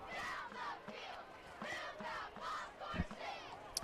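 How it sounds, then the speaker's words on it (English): A crowd cheers and shouts at a high school football game, faint and distant, in repeated swelling bursts of voices with a sharp thump near the middle. "You can hear the crowd back there."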